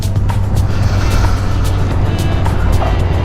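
A Honda CBR1000RR motorcycle engine runs as a steady, low, continuous drone that stays at one even level for the whole stretch, with airy road and wind noise above it and no voices.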